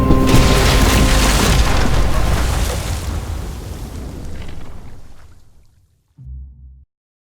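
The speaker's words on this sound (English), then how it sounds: "Shit, the bomb!" Bomb explosion in a Walking Dead TV episode, a loud sustained rumbling boom that slowly decays over several seconds, followed by a short low thud.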